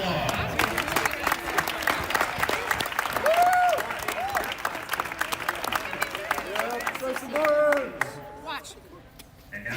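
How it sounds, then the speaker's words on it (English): An audience at a women's NCAA gymnastics meet claps continuously and loudly, with cheering voices mixed in, before the applause thins and fades out near the end. "One more time, a round of applause."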